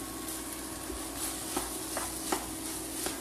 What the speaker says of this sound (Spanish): Mientras se sigue cocinando el relleno